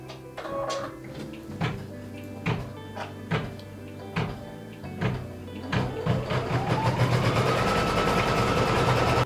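An embroidery machine stitches a placement line for batting on stabilizer, using dark thread. It begins with a series of sharp, evenly spaced mechanical thumps and then settles into a dense, fast, continuous stitching chatter. No one speaks.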